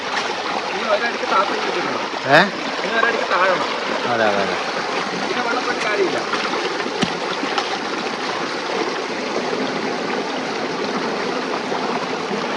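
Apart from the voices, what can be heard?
fast-flowing water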